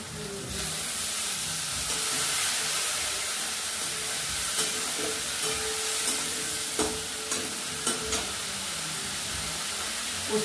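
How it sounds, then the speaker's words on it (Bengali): Spiced masala with a splash of water and salt frying in a pan for a village-style mutton curry, a dense continuous sizzle and hiss with occasional stirring scrapes, close and steady throughout. "কষে দেবো মশলাটা ভালো করে।"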